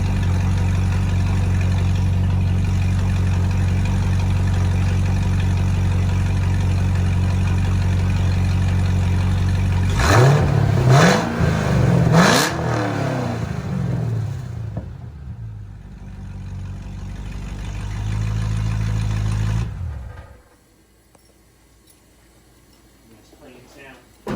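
A Cadillac CTS-V with a Stainless Works S-tube cat-back exhaust and large tips rumbles at a steady idle, then gives three quick, loud revs that fall back to idle before the engine shuts off, leaving near silence.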